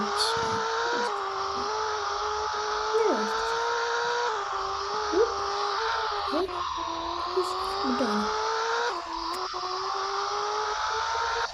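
A Ferrari's engine revs up close, in a steady high whine that climbs and dips with each gear change. Short gaps mark the shifts, and a few brief knocks break in, with no voices.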